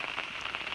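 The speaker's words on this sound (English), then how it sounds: "It is raining, but never fear." Rain patters on a tarp sheltering an outdoor cooking spot at a campsite, a steady, close, crackling hiss of drops with no voices.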